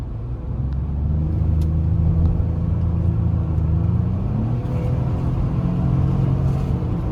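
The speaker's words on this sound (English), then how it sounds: "I'm going to drop the gear to 3 and rev it." A 2015 Lincoln Navigator engine revs in third gear, a deep rumbling drone that climbs in pitch midway and then holds steady, close and loud.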